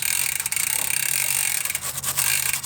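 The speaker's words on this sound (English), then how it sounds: "Again, spin the pedal backwards." A bicycle freewheel ratchet clicks in a quick, continuous buzz as the pedal is spun backwards during a drivetrain cleaning, close and moderately quiet with a few brush scrapes.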